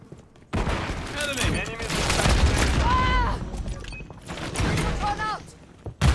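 Gunfire erupts in Call of Duty Modern Warfare III as a sniper fires from a distant building, with loud bursts and booms under excited speech.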